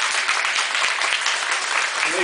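An audience at a folk children's choir competition claps loudly and densely, a continuous, close wash of applause with a voice briefly heard near the end.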